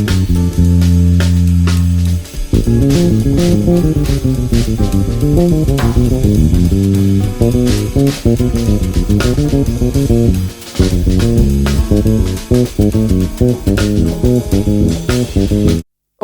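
An instrument plays a continuous jazz II-V-I line over 16 bars, moving down through keys, with busy, steady melodic runs over accompaniment and no voices.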